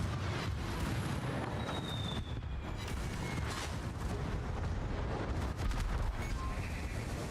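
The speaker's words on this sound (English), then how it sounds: "No, he's shooting at me." Warship gunfire in World of Warships, low rumbling booms and salvos running as a continuous muffled barrage with faint whistling shell sounds, no talking.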